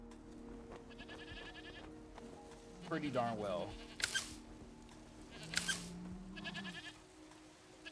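Goats in the video game Endzone A World Apart give a couple of short, wavering bleats near the middle, mixed with game ambience and someone talking.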